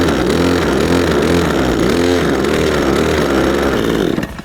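Kawasaki petrol engine on a long reach hedgecutter revving steadily up close, a loud continuous buzzing drone with slight warbles in pitch that holds for several seconds before cutting off abruptly.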